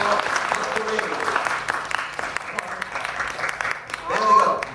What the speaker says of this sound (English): A nice round of applause for Mr. Lee.